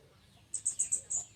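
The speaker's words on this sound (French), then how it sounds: "je vais vous montrer quelques oiseaux que pour moi sont très très beaux, puisque celui qui a cette ferme-là élève des oiseaux" Birds kept at a bird-breeding farm in a village in Isan, Thailand, give a quick run of five high chirps, faint and close together, over a quiet background.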